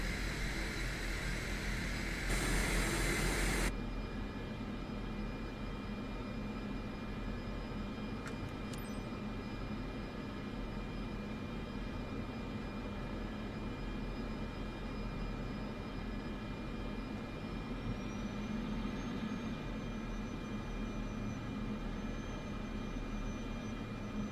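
Aircraft engine drone during initial climb in Microsoft Flight Simulator 2024, a steady, unbroken engine roar holding at even loudness throughout, with a brief burst of noise near the start and no talk.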